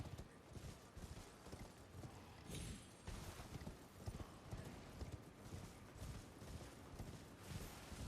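Torrent, the spectral horse in Elden Ring, gallops in a steady rhythmic clip-clop of hooves over a wash of wind and ambient noise, sustained and continuous throughout.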